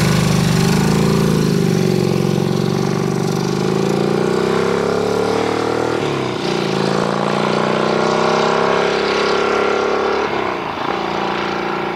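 A 1330cc Godet-Egli-Vincent motorcycle engine runs loud and close, its deep, throaty drone rising and falling as the revs climb, dipping briefly around the middle and again near the end.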